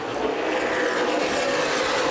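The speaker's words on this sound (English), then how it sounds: "Little contact between David Carter and CJ Leary going down the front stretch" Stock cars racing at Winchester Speedway in the CRA Super Series 100, a steady loud roar of engines passing on the front stretch, continuous with no breaks and no voices.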